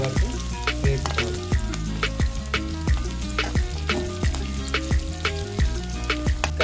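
Garlic and ginger fry in a pan over a low flame for ridge gourd curry, giving a steady sizzle broken by regular, repeated stirring strikes throughout.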